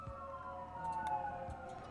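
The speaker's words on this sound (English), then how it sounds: "Always with the sirens." Wailing siren in the colony-building game RimWorld, a steady tone sweeping slightly over a low background hum, moderately loud throughout.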